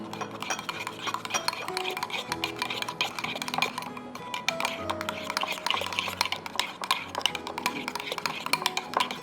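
A spoon stirs sandwich sauce around a bowl, producing steady clinking and scraping against the dish in a quick, busy rhythm, close and fairly clear, with faint kitchen background.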